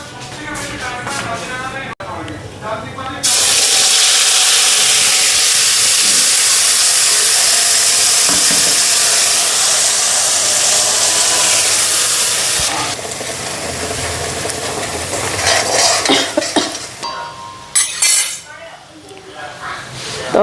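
A mixer grinder whirs loudly and steadily for about ten seconds in a home kitchen, then cuts out, followed by clinks of dishes and utensils.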